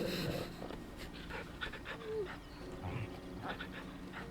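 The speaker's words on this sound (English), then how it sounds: "Pet the dog." A dog being petted in Final Fantasy 16 pants in quick rhythmic breaths at close range, with a few soft whimpers and game sounds, while a person talks over it.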